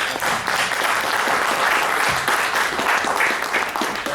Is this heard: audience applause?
yes